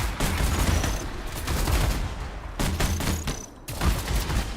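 Rapid bursts of weapon fire from a grenade launcher in the video game Anthem, loud and dense with short pauses between volleys, set against a busy battle background.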